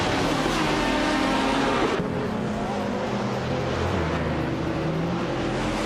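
A 2009 Peugeot 908 HDI FAP LMP race car in a video game gives a loud, sustained engine drone whose pitch shifts as it shifts gears about halfway through, then keeps on steadily.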